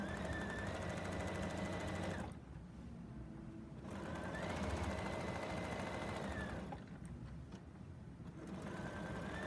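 A serger stitches binding onto a quilt in steady, rapid mechanical runs, with two short pauses between bursts of stitching, close and clear.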